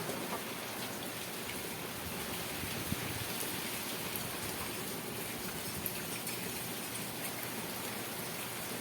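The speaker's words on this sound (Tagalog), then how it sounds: "Umulan guys, umulan. Oh, lakas ng ulan." Heavy rain pours down in a dense, steady hiss of drops drumming on surfaces, loud and unbroken with no voices.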